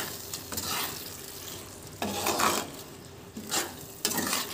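Spiced chicken kasha with red chili being stirred in a pan, a steady frying sizzle broken by several bursts of scraping and spatula strokes against the pan, close and fairly loud.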